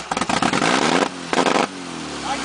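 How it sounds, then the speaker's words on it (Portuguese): Motorcycles revving hard nearby in two loud bursts of raspy engine noise, the second a short blip, then fading to a low background rumble. "puta as motos, mano"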